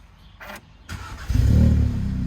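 An Audi S3 engine starting up: a couple of brief starter clicks, then the engine catches with a low rising rumble that settles into a steady, close idle, heard alone without talk.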